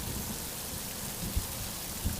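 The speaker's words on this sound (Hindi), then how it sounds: "पूरी रात मूसलाधार बारिश होती है" Steady heavy cartoon rain pours down in a dense, even hiss, with a couple of soft low thumps breaking through.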